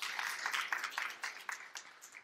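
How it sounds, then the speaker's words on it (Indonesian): A church congregation breaks into steady applause, a dense patter of many hands that is fairly faint and continuous, with no voices on top. "Tepuk tangan yang meriah untuk kemuliaan Tuhan."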